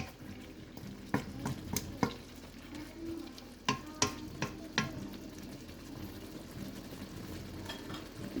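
Chayote and carrots sautéed in a pan for a guisado make a quiet, low sizzle, with a spatula scraping and knocking against the pan at irregular intervals.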